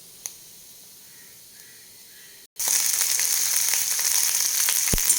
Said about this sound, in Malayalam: ബാക്കിയുള്ള ഈ വെളിച്ചെണ്ണയിലേക്ക് നമുക്ക് വെണ്ടയും ചെറിയ ഉള്ളിയും വഴറ്റാനിടാം